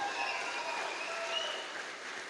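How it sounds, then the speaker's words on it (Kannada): A seminar audience in Karkala applauds in a soft, even patter of many hands, heard from a distance and fairly faint throughout. "ಜೋರಾಗಿ ಚಪ್ಪಾಳೆ ನಿಮಗೆ."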